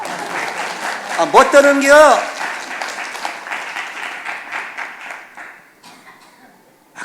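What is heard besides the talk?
congregation applause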